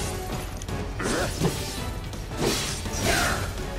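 A vacuum wave attack in the video game Final Fantasy VII Remake, a burst of crashing, whooshing impacts in battle over dense game music, with heavy hits around the middle and a swell near the end.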